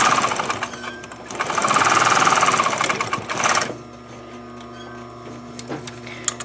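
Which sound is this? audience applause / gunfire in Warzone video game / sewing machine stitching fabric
sewing machine stitching fabric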